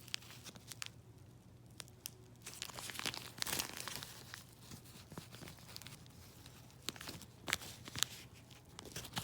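Crinkling and crumpling of a Coloplast Sensura Mio ostomy pouch being folded and squeezed by hand, a string of close, soft plastic rustles with sharper crackles over a faint steady hum.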